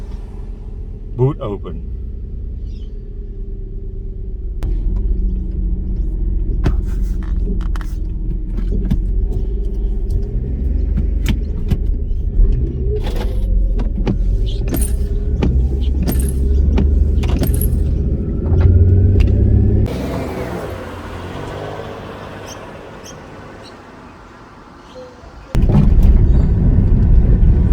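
A Jaguar S-Type engine cranks and starts, then settles into a steady low idle rumble with some rattling. Near the end it swells into a louder roar, and brief speech is heard along the way.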